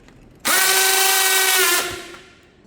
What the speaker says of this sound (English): I'll secure the motor to the carbon fiber rod with self-tapping screws to make sure it stays firmly